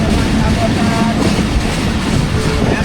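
Pakistan Express passenger train running at speed in rainy early-morning conditions, a loud, steady roar of wheels and carriage rumble with faint rhythmic clatter, heard from on board.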